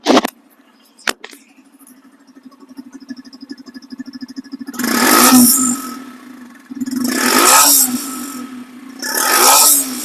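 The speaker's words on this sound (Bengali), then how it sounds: "এখন এই বাইকটি সাউন্ড কোয়ালিটি শোনাবো যে সাউন্ডটা ঠিক আছে কিনা দেখেন সাউন্ডটা দেখেন" A Yamaha FZ-S motorcycle engine idles with a steady putter, then revs loudly three times in bursts, close up.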